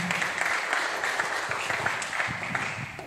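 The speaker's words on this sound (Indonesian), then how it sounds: "kasih tepuk tangan buat kita semua dong" A youth and teens congregation at a church service claps together, a soft, steady patter of many hands lasting about three seconds, heard from a distance in a reverberant room.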